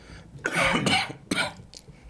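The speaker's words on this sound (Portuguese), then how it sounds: "Vou tossir, vocês cortam aqui" A few harsh, close coughs in a quick burst, followed by a softer throat-clearing rasp.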